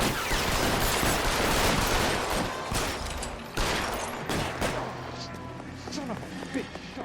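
Gunshots in the video game L.A. Noire during a Vice Desk shootout, a loud dense volley of cracking fire that thins out into scattered shots, with voices shouting over it.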